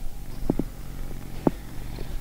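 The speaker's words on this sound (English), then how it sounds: "Look at the cat." A cat purrs softly close by, the steady low rumble broken by a few brief louder pulses over about two seconds, with no talking.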